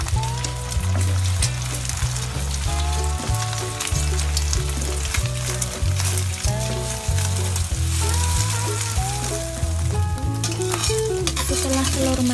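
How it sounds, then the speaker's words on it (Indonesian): An egg fries in hot oil in a wok while being stirred for nasi goreng, with loud continuous sizzling and rhythmic scraping stirs that repeat throughout, and no one talks over it. "Kemudian goreng telur"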